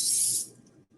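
Cooking spray hisses into a muffin tin in a single short, close burst lasting about half a second, then tails off into quiet room noise.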